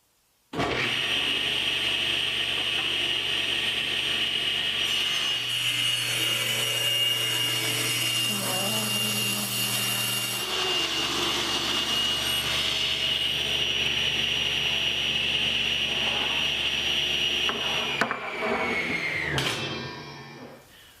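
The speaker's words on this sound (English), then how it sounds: "I'll turn the board on its edge and run it back through the saw." A table saw with its blade tilted to 7 degrees rips a wooden molding board run on edge, giving a loud, sustained whining drone that holds steady for most of the clip, shifts pitch slightly mid-cut, then spins down near the end.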